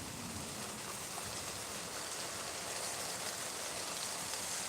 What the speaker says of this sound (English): All right, it's raining.